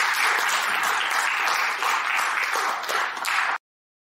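Audience applause at a public Gauss lecture in Bremen, steady dense clapping from a full hall that holds at an even level for about three and a half seconds, then cuts off abruptly.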